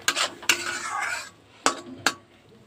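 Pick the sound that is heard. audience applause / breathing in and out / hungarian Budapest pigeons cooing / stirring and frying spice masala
stirring and frying spice masala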